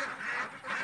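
A short, hoarse Muscovy duck call, a breathy hiss-like quack lasting under a second, heard close and on its own on a farm.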